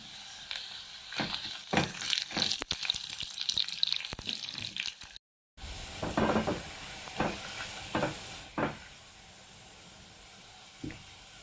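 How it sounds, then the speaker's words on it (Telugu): Garlic, dried red chillies and curry leaves fry in oil as a tempering for dal, crackling and sizzling in bursts as they are stirred, with scraping clicks, a brief cut in the middle and the sputtering fading toward the end. "తాలింపు ఫ్రై అయిందండి"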